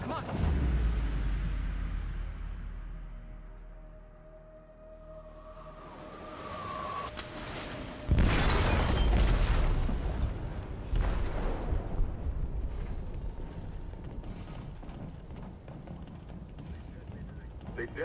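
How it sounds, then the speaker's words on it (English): An explosive detonates in a ship's hold in the video game Detroit: Become Human: a sudden loud, deep blast and roar that breaks in mid-clip and rumbles on, after quieter rumbling and a rising whine. "They detonated an explosive in the hold."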